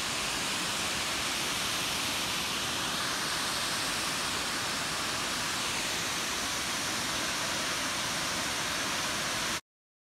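A small waterfall in Lamington National Park on the Coomera Circuit, a steady, dense rushing roar heard close and loud, unbroken for nearly ten seconds before cutting off.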